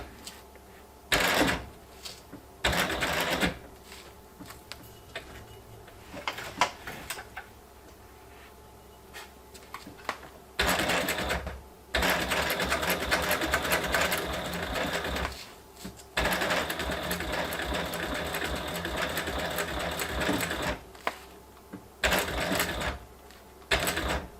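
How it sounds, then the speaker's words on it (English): A sewing machine back-stitches a homemade sun visor, running in several loud close bursts of rapid mechanical clatter separated by short pauses. "you go over your stitching back and forth, and that way your thread does not come undone"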